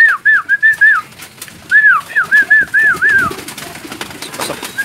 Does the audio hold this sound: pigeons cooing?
yes